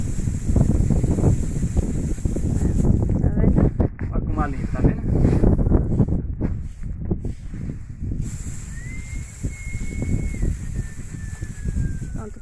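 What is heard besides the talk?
wind blowing while winnowing beans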